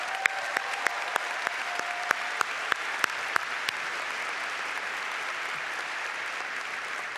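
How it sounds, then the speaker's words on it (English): A large crowd applauds at a Cal Poly fall commencement ceremony, a dense continuous wash of clapping in a big space with a few sharper individual claps standing out early on. "Let's give her another round of applause."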